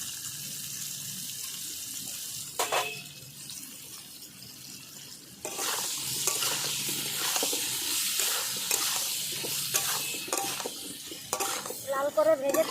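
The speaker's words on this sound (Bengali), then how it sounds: "পটলও আমি লবণ আর হলুদ দিয়ে ভেজে নেব" Pointed gourd (potol) fries in oil with salt and turmeric, a soft sizzle that swells sharply partway through, with intermittent scrapes and knocks of stirring, close and moderately loud.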